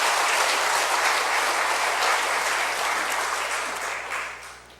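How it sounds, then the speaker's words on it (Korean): A church congregation claps in encouragement for the choir, with dense, steady applause filling the space and then fading away toward the end. "우리 다시 한번 격려의 박수 부탁드립니다."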